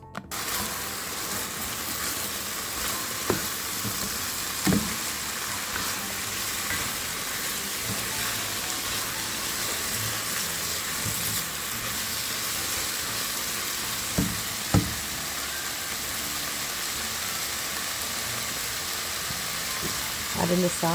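Chicken stir fry sizzles steadily in a pan, a continuous broadband hiss with a few brief clatters of utensils against the pan; no one speaks.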